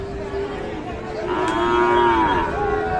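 At the Raniganj livestock market in Ghoraghat, Dinajpur, a Sahiwal cow lets out a single drawn-out moo, loud and fairly near, over a low background murmur of the market.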